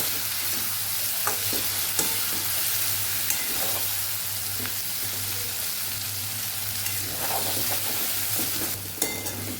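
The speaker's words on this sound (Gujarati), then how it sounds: "બધી સાઈડથી આપણે ફેરવતા ફ્લાવરને બધી બાજુથી આપણે સરસ ફ્રાય કરી લેવાનું છે." Cauliflower florets sizzle and crackle steadily in hot oil, with occasional stirring clinks against the pan and a low hum underneath.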